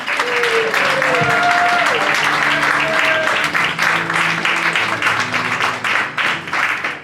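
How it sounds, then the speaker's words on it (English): Comedy-show audience clapping for a comedian, a dense, loud round of applause filling the room throughout, with some voices and cheers rising over it. "don't stop clapping for Allie, boys and girls"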